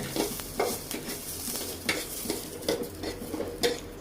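Garlic and chili fry in a pan for a chepa shutki bharta, with a soft continuous sizzle under repeated scraping and clinking strokes of a utensil stirring against the metal.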